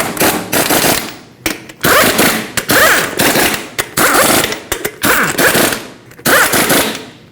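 An impact wrench tightens the lug nuts on a Ford Expedition wheel during a front strut replacement. Six loud, close, rattling hammering bursts of about a second each are separated by short pauses.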